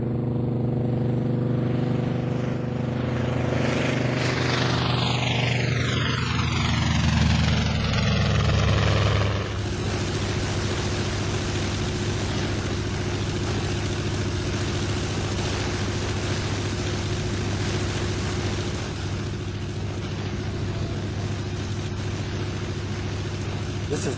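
A Zero fighter Model 52's supercharged 1,705-cubic-inch 14-cylinder two-row radial engine runs up, its pitch sweeping and rising, then holds a loud, steady propeller roar.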